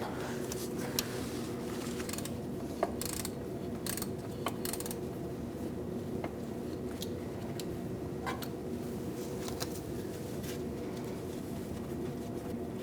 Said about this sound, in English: I'm going to use a 13mm in my ratchet. And we're going to remove this nut.